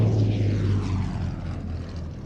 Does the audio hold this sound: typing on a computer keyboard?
no